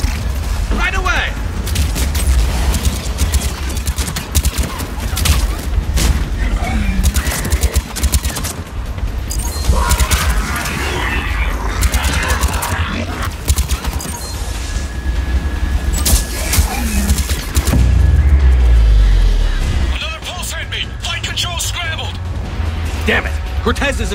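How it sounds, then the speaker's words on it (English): Covering gunfire in Mass Effect rattles through a dense, loud firefight mix, with rapid shots and low booms layered under frequent shouted dialogue. "Give us some cover fire!"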